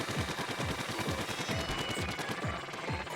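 Rapid, steady ink-weapon fire in Splatoon, rhythmic repeated shots at close range continuing throughout without pause, aimed at a fan in the level.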